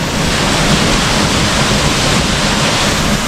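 Heavy water pours through a narrow channel at the Gauri Shankara Kona waterfall, making a dense, steady roar that stays loud and unbroken throughout.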